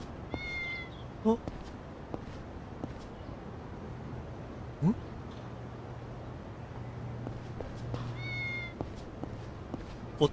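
A cat meows in Yakuza 6: The Song of Life, a few short harmonic mews near the start and again near the end, with game ambience and a low hum underneath and occasional clicks.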